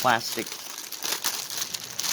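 A plastic bag from a diamond painting kit crinkles in sharp, close bursts of rustling, with a person talking over the first moment.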